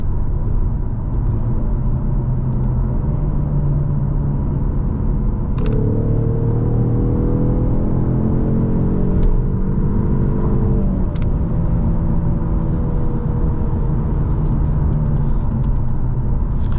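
2023 Ford Mustang EcoBoost with a 10-speed transmission accelerating in sport mode on a highway: steady cabin engine rumble with road noise, rising engine tones climbing briefly midway, then easing back to a low drone.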